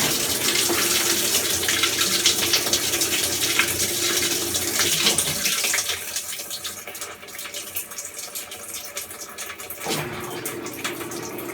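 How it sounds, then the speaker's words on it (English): A Maytag Bravos washing machine fills with water, a steady rushing gush from the inlet that continues throughout, softening partway and then running on at a slightly lower level. "So you can see the water is beginning to run"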